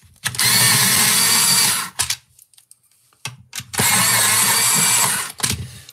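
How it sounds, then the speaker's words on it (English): An electric pencil sharpener grinds coloured pencils in two loud, steady bursts of about a second and a half each, separated by a short quiet pause. "Right, I'm gonna sharpen these."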